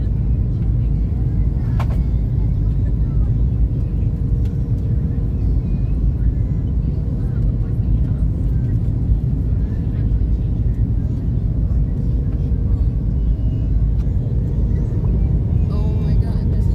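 Airbus A321neo airliner landing at Seattle-Tacoma (KSEA), steady loud low cabin rumble and engine roar throughout, with faint intermittent voices under the noise.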